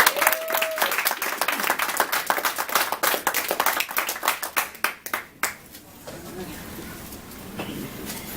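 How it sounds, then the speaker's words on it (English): A Toastmasters audience gives a speaker a warm round of applause, dense and steady clapping from many hands that thins out and fades toward the end. "Please give a huge round of applause for our DTM Janet Moyle."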